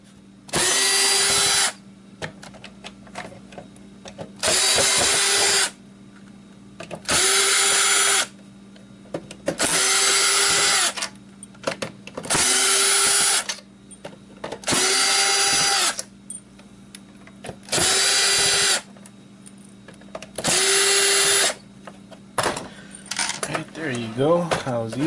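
A power drill pulls screws out of a PS2 console in nine or so bursts of whining motor, each lasting about two seconds with short pauses between, close and loud. A faint voice comes in near the end.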